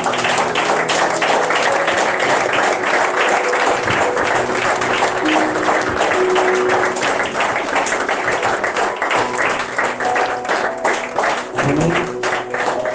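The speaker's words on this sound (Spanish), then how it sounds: "Dale un aplauso fuerte a Cristo." Church congregation applauding during a revival sermon in Paysandú, a loud, sustained burst of many hands clapping, with scattered voices under it.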